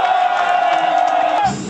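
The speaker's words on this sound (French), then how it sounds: "La foule joyeuse, très contente du message, réagit" A joyful crowd at a political rally in Bandundu, Kwilu province, roars in a loud, sustained collective cheer with shouting voices, tailing off at the very end.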